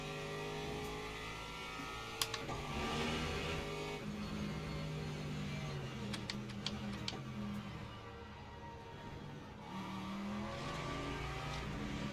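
Race car engine from the Le Mans Ultimate sim during GTE daily races at Imola and Monza, a steady droning engine note with shifting harmonics and a few sharp ticks, continuous and fairly even, with no talk.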